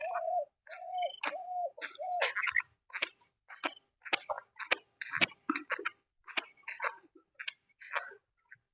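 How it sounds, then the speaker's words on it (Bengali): Morning birdsong outdoors, with a dove's repeated cooing at first, then a run of sharp chirps and calls at varying distances, clear against a quiet background and with no talking. "সকাল সকাল পাখির কিচিরমিচির ডাক"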